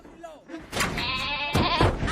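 A cartoon goat lets out a loud, wavering bleat after a brief burst of noise, the sound close and prominent alongside voices from the animated scene.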